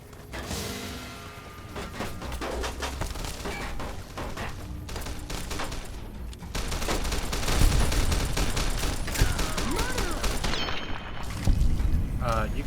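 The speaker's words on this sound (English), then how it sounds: "You guys were shooting at me." Gunfire rattles in a video game: dense, continuous rapid shots and mechanical clatter run throughout, swelling louder in the second half.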